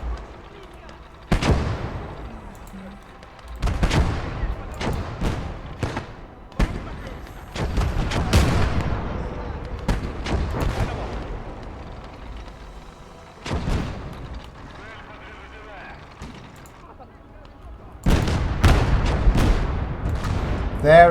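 Artillery fire in the Motherland war game, repeated heavy booms and bursts of shelling arriving in clusters with quieter gaps between, loud and close, a voice talking at times underneath.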